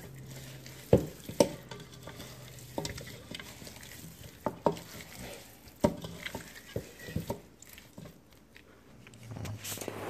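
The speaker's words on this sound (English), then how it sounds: "I'm going to give that a quick stir around in the bowl with my clean hands" BBQ chicken pieces stirred in a bowl by hand with barbecue sauce, quiet wet squelching and soft slaps with a few sharper knocks, close and faint.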